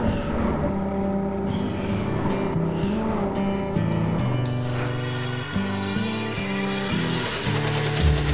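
A Volvo IPS boat engine rumbles steadily at idle, low and continuous, with shifting tonal layers and some clatter on top throughout; no speech.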